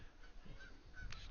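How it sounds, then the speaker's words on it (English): Geese honking as they fly in and land on a practice field beside a baseball game, several faint, scattered honks sounding far away over a low outdoor background. "There are some geese flying and landing in the practice field right next to the facilities."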